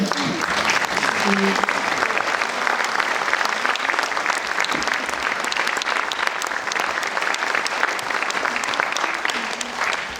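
Audience applause at the Festival Partances 2025: loud, steady clapping from a full crowd fills the whole stretch without a break.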